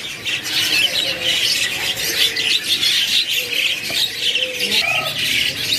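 Jala kebo birds at the Pramuka bird market in Jakarta squawk and chirp continuously at close range, a busy chorus of harsh calls without pause over a background hum of market noise.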